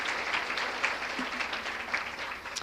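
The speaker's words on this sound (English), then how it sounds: "So let's give them a round of applause." An audience claps steadily at a church ladies' seminar, a dense patter of hands for a few seconds with no voices over it.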